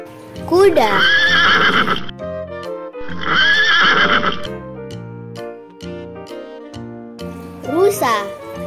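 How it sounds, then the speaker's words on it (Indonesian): A horse neighs loudly and close, with long rising-and-falling whinnies, over a light musical accompaniment; one more whinny sounds near the end. "kuda,"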